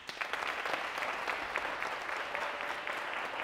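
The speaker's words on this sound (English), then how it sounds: "round of applause, please" Studio audience at a leadership competition finale applauding the judges, a steady patter of many hands with some sharper individual claps, fairly soft and distant throughout.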